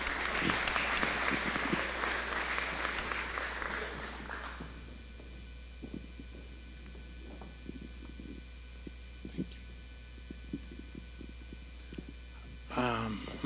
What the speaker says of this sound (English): Please give him a hand clap.